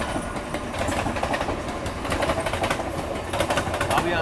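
A train runs fast in parallel with a jam-packed Virar-bound local train near Mumbai, a steady rolling roar with rhythmic wheel clatter, heard close and continuous throughout.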